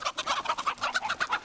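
Korean native breeding chickens at a national livestock research farm cluck in a quick, steady series of short, close, busy calls.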